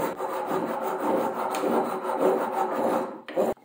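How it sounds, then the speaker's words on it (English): A hand rasp filing an oak and poplar wooden mallet, producing steady rhythmic rough scraping strokes close up, with no voices. "And then back to the rasp."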